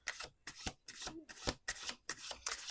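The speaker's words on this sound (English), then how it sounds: "Let's do 2 more shuffles." Tarot cards being shuffled by hand in quick bursts, about six riffling rustles with short pauses between them, close and fairly quiet, with no talk over them.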